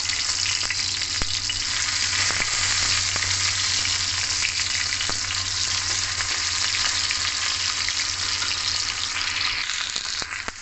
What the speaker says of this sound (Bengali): দুদিক উল্টিয়ে পাল্টিয়ে লাল করে ভেজে নেব